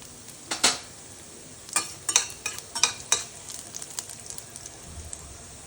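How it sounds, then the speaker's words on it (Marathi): Garlic and mustard lentils frying in oil for mango pickle, a low sizzle broken by sharp spoon-on-pan clinks and stirring scrapes in irregular bursts, close and fairly quiet. "लसूण लाल झाला की मग त्याच्यामध्ये आपण जी एक चमचा मोहरीची डाळ घेतली होती ती डाळ घालून घ्यायची"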